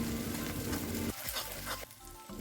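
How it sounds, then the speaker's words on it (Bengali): Spicy chicken with spices fries in a pan, giving a brief close hiss and sputter that drops off partway as the pieces are stirred, with no talking. "চলুন ভালো করে সমস্ত উপকরণগুলোকে একসাথে ভেজে নেওয়া যাক"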